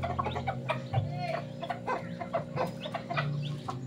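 Native brooding hen clucking repeatedly in a farm setting, a close series of short clucks and low murmurs with rustling and faint farmyard background sounds.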